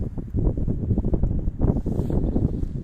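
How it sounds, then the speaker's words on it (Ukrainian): Strong, icy wind buffets the microphone by a lake with a steady low roar and rumbling gusts, loud and close, with no voices. "бо крижаний вітер"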